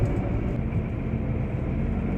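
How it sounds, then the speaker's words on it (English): A lorry passes on a nearby road on a farm on a busy morning, giving a steady low rumble and broadband road roar that holds at an even level throughout, with no voices. "Busy morning, that's 1 lorry."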